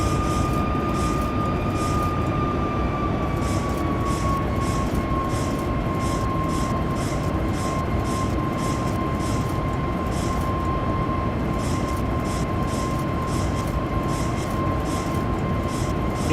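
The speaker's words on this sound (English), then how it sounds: "Just gonna hand fly it off the deck here, guys." A Boeing 737 MAX 8 taking off in X-Plane 11, a steady loud engine roar with a whining tone that slides slightly downward, holding constant throughout.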